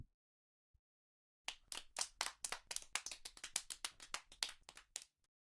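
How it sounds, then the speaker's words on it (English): A small group claps for a few seconds in the Steins;Gate visual novel game, the thin, scattered applause starting abruptly and fading out. "enters to sparse applause"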